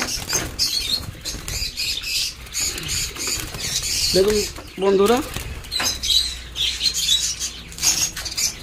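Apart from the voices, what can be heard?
male budgerigar flapping wings and chirping while caught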